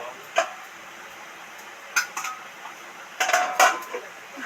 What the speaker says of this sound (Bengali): দশ মিনিটের মতো ঢাকা দিয়ে দেব